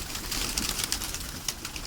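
Pet pigeons coo softly, their low calls repeating under a constant hiss of background noise.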